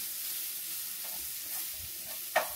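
Peppers and onion sautéing in olive oil with a light seasoning, a steady soft sizzle with a few faint stirring scrapes and one sharp utensil tap near the end.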